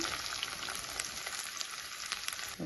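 Crushed garlic cloves fry in a pan with a dense, even, close sizzle that holds steady throughout and has no talk over it.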